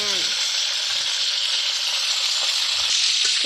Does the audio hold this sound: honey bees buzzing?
no